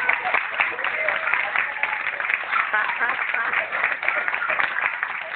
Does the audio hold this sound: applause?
yes